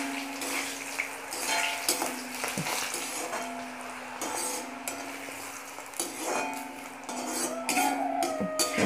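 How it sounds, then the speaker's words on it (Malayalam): Pappadam frying in hot oil in a pan, a steady sizzle under clinks and scrapes of a utensil against metal, with occasional louder taps as pieces are moved and lifted out. "ആദ്യം പപ്പടം വറുത്ത് കോരി എടുക്കാം."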